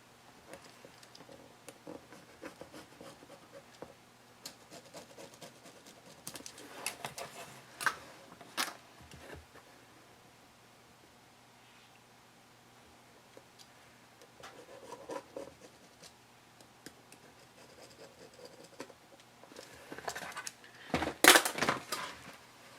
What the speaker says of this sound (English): take your ruler and mark a 3-inch square box on each side of the bag